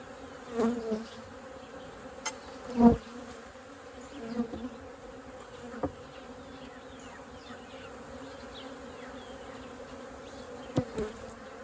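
Honey bees in a queenless hive give off a steady, agitated buzz, close and continuous. Louder individual bees fly past every few seconds, and a few sharp thumps and knocks break through.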